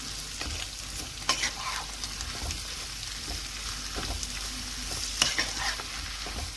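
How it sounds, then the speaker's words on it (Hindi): Tomatoes and green chili are stirred into frying masala karela with garlic in a pan: a steady sizzle with repeated scraping stirs of a spoon, close and fairly loud, with no voices. "अब इसमें हम टमाटर डाल देंगे, सब्ज़ मिर्च, इसको एक दफ़ा मिक्स कर लें।"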